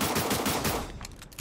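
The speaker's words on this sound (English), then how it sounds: "If she's shooting someone here, there's an enemy here." Automatic gunfire from a first-person battle game, Cyber Hunter, rattles loudly and continuously for about a second, then thins into a few scattered, fainter shots.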